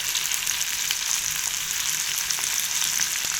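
Chopped onions hit hot oil with curry leaves in a pan and set off a bright, dense, steady sizzle that stays even throughout, close and unaccompanied by any voice.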